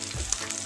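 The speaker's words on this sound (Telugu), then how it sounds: "వీటిని కొంచెం ఫ్రై చేసుకోవాలి." Cumin, green chillies and bay leaves frying in oil, a brief, steady close sizzle with a faint crackle.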